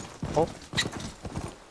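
Horse hooves clip-clop at a quick, rhythmic pace while riding a mount in the Horizon Forbidden West video game. A player speaks briefly over the close hoofbeats.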